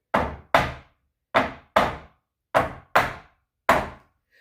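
A square pan of dessert filling tapped on a kitchen counter, seven short, dull knocks in uneven pairs and singles, each close and clear with a brief decay, no talk over them.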